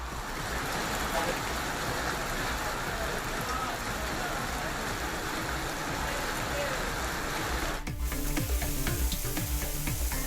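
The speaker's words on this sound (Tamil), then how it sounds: "புதுக்கோட்டை மாவட்டத்தின் பல்வேறு பகுதிகளில் நேற்றும் இடி மின்னலுடன் கூடிய கனமழை பெய்தது" Heavy rain pours across Pudukkottai district in Tamil Nadu as a dense, steady hiss that stays loud and unbroken for the whole stretch, with a brief dip and a slightly rougher texture near the end.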